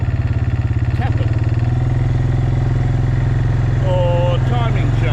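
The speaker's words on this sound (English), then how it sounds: "the rattle was the axe" A running vehicle engine chugs steadily up close while a loose axe rattles inside, a clattering that could pass for a noisy tappet, with a voice speaking briefly over the noise.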